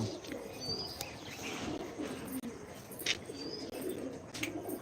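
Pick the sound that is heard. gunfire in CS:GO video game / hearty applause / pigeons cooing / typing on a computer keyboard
pigeons cooing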